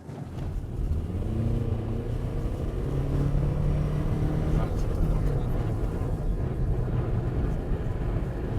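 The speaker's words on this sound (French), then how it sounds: "Il accélère. Ça fait un bruit bizarre." A suspect car with a boosted engine accelerates, its loud, sustained engine roar rising in pitch and holding steady throughout, close by and dominant.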